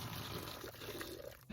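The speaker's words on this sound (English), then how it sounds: "we're gonna take our hot tea and we're gonna pour it over" Hot tea pours over sugar in a container, a faint steady liquid trickle and splash that runs briefly close by without speech.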